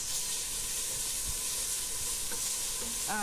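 Pounded green herb paste sautés in hot oil as the flavor base for a Cambodian beef tripe stew, giving a soft, continuous sizzle and hiss with a few light stirring scrapes near the end; no talking.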